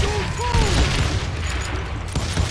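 Gunfire from the Western shooter game Call of Juarez Gunslinger, a dense burst of shots and booms running continuously over a busy mix of game music and effects.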